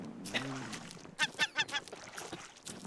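A seagull stealing food in the Raft video game gives a quick burst of nasal, honking calls, fairly faint over quiet game ambience, with a brief voice at the start.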